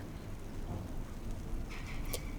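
Steady rain hisses throughout with a low rumble of thunder underneath, and a brief brighter crackle near the end, heard alone without talk.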